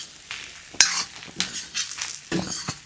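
Samosa filling mixture being stirred in a pan, with a spoon scraping and clinking against the metal in uneven strokes over a soft sizzle, close and fairly loud.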